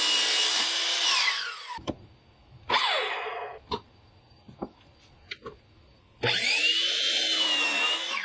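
A handsaw cutting flat through a wood board for a glass-top coffee table, heard in two long rasping bursts at the start and end with several sharp knocks and taps between them, loud and close with no talk.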